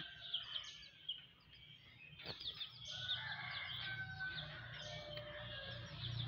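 Rainbow chickens cluck and chatter steadily at close range while pecking at feed, over a low background hum, with a few sharper calls rising from the flock.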